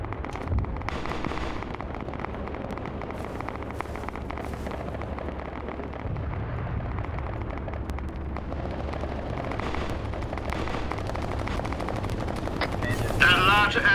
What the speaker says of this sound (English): machine gunners on the side are shooting at him